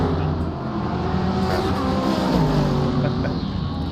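A GT World Challenge race car at the German Grand Prix passes close by, its engine loud and steady with a slight rising pitch and quick shifts under a continuous roar.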